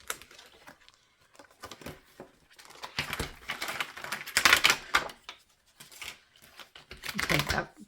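Scissors cutting butterfly pieces from a Happy Planner sheet, quiet close crisp snips and paper rustling in irregular bursts that grow louder toward the middle and end.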